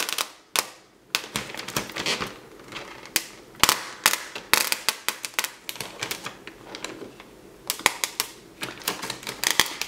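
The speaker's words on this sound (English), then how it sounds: "when you go to take off the transfer tape, take it off slowly" Rapid crackling and ticking as transfer tape peels slowly off vinyl on a balloon, with irregular bursts of sharp snaps and pops running continuously.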